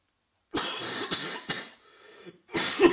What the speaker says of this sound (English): Were you stifling a cough?